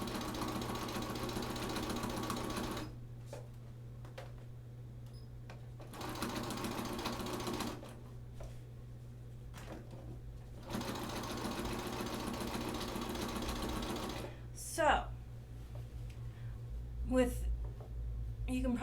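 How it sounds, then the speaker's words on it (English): A sewing machine stitches binding onto a quilt in three steady runs separated by pauses, quiet and close, with a low hum beneath and a few handling sounds near the end. "So I'm going to start sewing."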